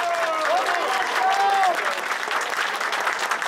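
Gathered supporters applaud during a visit by a newly elected mayor, a steady wash of clapping with a voice briefly rising over it before the clapping carries on alone.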